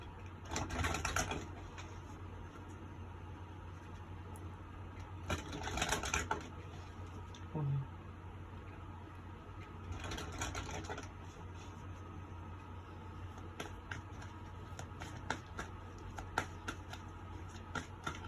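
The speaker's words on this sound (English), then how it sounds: "let's give them a good shuffle" Soft, papery riffling and tapping of tarot cards being shuffled in several quick bursts, close but quiet, with brief pauses between them.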